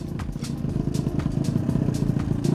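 Honda CB125 motorcycle ridden on a wet road, its engine a steady close drone with light clatter and faint road hiss throughout, no speech.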